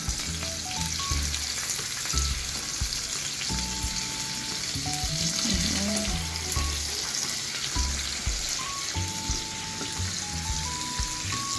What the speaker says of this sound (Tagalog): Pag nagpipirito kayo, dapat mainit muna yung mantika bago nilagay yung pipirito nyo